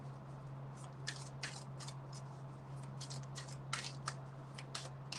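Tarot cards are shuffled by hand in close, crisp riffling bursts that repeat irregularly over a steady low hum, with no talking.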